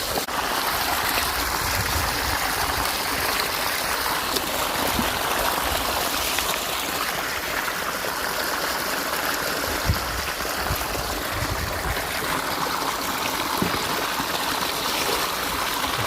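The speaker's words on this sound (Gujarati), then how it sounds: "મોટર ચાલુ થઈ ગઈ છે, પાણી આવી ગયું છે અને ધોરિયામાં વહેતું થઈ ગયું છે" Pumped water rushes steadily along an irrigation channel, a constant close, full-bodied flowing sound with no pauses.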